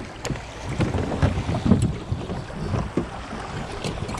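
A strained boat engine in a video game rumbles and churns roughly through water, mixed with gusty wind and splashing that swell and fade unevenly.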